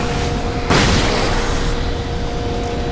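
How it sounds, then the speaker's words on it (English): A flashbang goes off in the video game Alan Wake, a loud sudden boom that jumps up and then fades into a dense roaring wash, with faint high chirps afterward. "I think I might just have to start popping flashbangs off on these guys."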